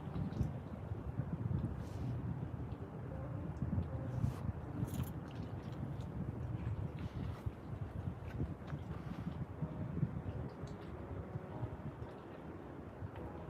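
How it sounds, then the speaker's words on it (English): Steady low wind rumble buffets an outdoor microphone on a cool night near the railroad in Stuart, a continuous broadband roar with no voices. "The wind's blowing just right."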